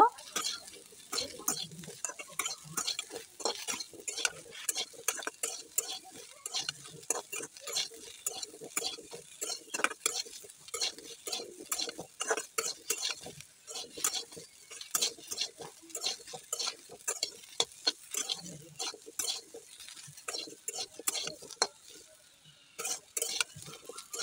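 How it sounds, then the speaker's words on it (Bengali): Baby potatoes frying in a kadai, stirred continuously with a utensil that scrapes and knocks against the pan in quick irregular strokes, close up over a faint sizzle throughout. "আমি আর 2 মিনিটের মতো ভেজে চুলা থেকে নামিয়ে নিব"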